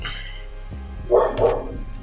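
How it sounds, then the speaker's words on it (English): A pet dog barks indoors: two or three short, fairly close woofs in quick succession, heard alone with no speech. "I'm back because my dog was barking"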